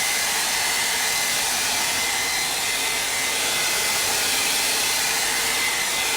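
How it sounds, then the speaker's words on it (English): A blow dryer runs loud and steady throughout, drying paint on a gallery wall project with an unbroken close whoosh and no other sounds. "So I'm going to hit this real quick with my blow dryer."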